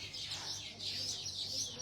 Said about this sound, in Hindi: बहुत ज़्यादा चहचहाने की आवाज आ रही